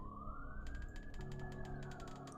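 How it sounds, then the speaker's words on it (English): A police siren wails faintly in the background, its tone rising slowly, beneath a steady indoor hum and a run of soft rhythmic clicks. "There's a siren in the background right now."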